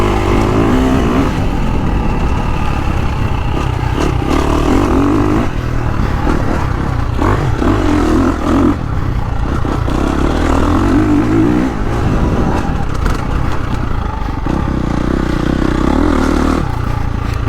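A 2023 KTM 350 SXF dirt bike with an Akrapovic exhaust, its engine loud and close, revving and surging continuously as it rides over rough, dusty terrain, with rattling and clatter throughout.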